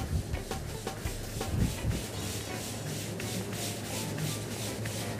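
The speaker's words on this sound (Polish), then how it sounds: "Ja kręcę tradycyjnie, czyli wykręcam na stole." Pizza dough stretched by hand on a table in the traditional Italian way at a Kraków pizzeria gives soft, close rubbing and slapping sounds in an irregular rhythm, heavier in the first two seconds.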